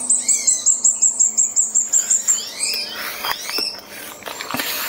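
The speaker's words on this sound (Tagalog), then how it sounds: "Ang daming huni ng mga ibon." Birds call from the trees, a rapid series of about fifteen repeated bright chirps up front, followed by several overlapping tweets and squawks from other birds, fairly close and loud.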